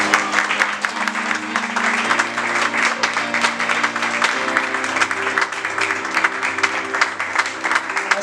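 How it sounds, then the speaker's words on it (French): A church congregation applauds and cheers for God during a French-language service led by an apostle, with steady dense clapping throughout alongside sustained tones of music or voices beneath it. "Est-ce que vous acclamez pour Dieu plus fort, pour Dieu qui fait grâce"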